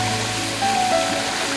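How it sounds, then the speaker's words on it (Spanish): Steady rushing water of a waterfall deep in the Hawaiian jungle, a continuous dense roar close by with no break or change across the short stretch. "Esto es Hawái, en medio de la selva, en una cascada increíble"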